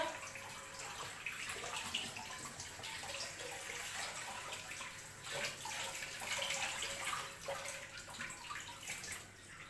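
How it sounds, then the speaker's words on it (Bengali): Water runs and splashes steadily while something is soaked before cleaning, a continuous, even wash of sound lasting about ten seconds with small drips and splashes on top. "একটু জল দিয়ে নেবো দেখো এ দেখো জলে ভিজিয়ে নিচ্ছি"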